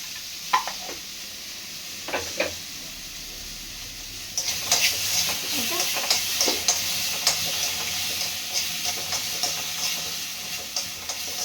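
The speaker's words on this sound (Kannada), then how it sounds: "ಚೆನ್ನಾಗಿ ಫ್ರೈ ಆಗಬೇಕು." Tomatoes frying in a pan with salt for tomato gojju, a steady close sizzle with bright hiss that swells partway through, broken by repeated scrapes and knocks of stirring.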